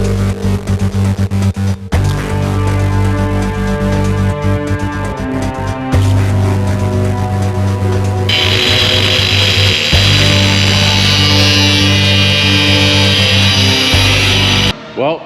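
A flap wheel grinds through the outer skin of a GMC truck hood, steady and loud with a harsh abrasive whine that changes pitch as pressure shifts, with brief pauses and a brighter, sharper grinding in the latter half.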